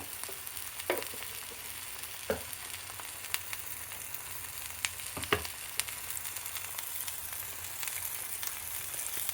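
Steady sizzling of spices and kasuri methi frying in hot oil for paneer tikka masala, with occasional sharp scrapes and taps of a spoon stirring the pan.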